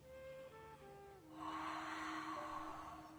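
A pregnant woman's pilates class, with a breath drawn in during an exercise: soft tonal hum and background at first, then a broad, loud airy inhalation rising after a second and holding steady to the end.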